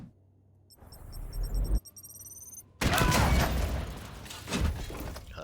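A grenade blast in Warhammer 40,000: Chaos Gate - Daemonhunters, thrown at an enemy squad, erupts as a loud, sustained roar of debris after a brief metallic lead-in, with a second surge near the end.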